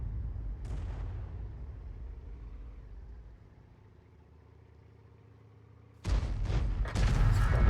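In a World of Tanks match, a tank-destroyer artillery gun fires a deep boom that fades into a low rumble, then a second loud blast with crackling debris hits near the end.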